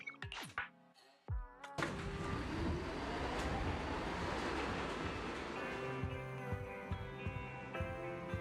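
A subway train in the Zenless Zone Zero video game, a loud, steady rumbling roar that swells in after a brief burst of game sounds and holds without talking.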